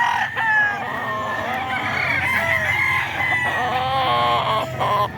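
Several chickens cluck and roosters crow close by, calls overlapping continuously in a busy, noisy yard.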